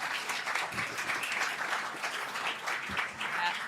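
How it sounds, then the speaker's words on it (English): Conference audience applauding a panel on what the resident industry needs to hear, continuous mid-level clapping from a crowd, even and sustained throughout. "Big round of applause, sorry, for our panel"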